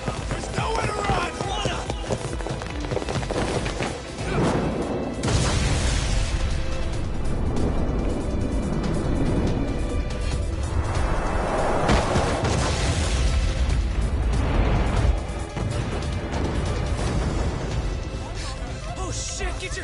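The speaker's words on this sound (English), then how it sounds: "This ship just exploded!" A ship explodes in the video game Lost Judgment with loud booming blasts and crashing debris. Dense, chaotic action noise fills the whole stretch, and people talk excitedly over it.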